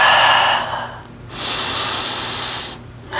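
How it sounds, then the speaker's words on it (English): Slow deep breaths during a beginner yoga flow in a low lunge with side bend: a long inhale and a long exhale, each drawn out for over a second, close and clear with no talking. "Deep breaths."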